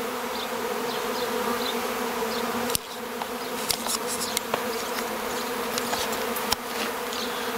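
Honey bees from a colony being moved out of a tree trunk give a steady, dense buzz, with a few sharp knocks and clicks scattered over it.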